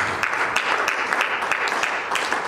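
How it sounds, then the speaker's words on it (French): A church congregation applauds during a Sunday service, clapping in a quick, fairly regular rhythm at a close, moderately loud level, with faint voices mixed in. "On acclame le Seigneur Jésus"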